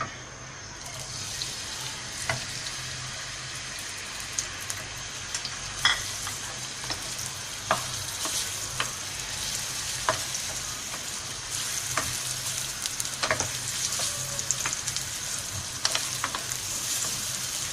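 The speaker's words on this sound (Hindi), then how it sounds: "अब इसके अंदर हम प्याज डालते हैं" Onions frying in ghee in a pan for a whole-spice meat stew: a continuous close sizzle and crackle with scattered stirring clicks and scrapes over about eighteen seconds, no talking.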